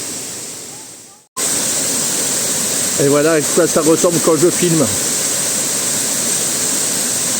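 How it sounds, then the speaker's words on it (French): Steady, loud rush of a Thailand waterfall at Erawan park fills the whole clip without a break, after a brief dip at the start, and someone talks over it in the middle. "Allez, je vais aller vers ma quatrième cascade."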